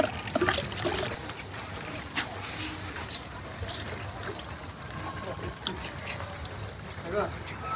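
Water flows continuously through the filter of a rooftop fish tank, making a steady trickle that carries on under people talking.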